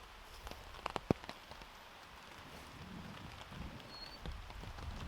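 Rain falls steadily during wild camping, a soft broadband hiss of drops with a few sharper taps near the start.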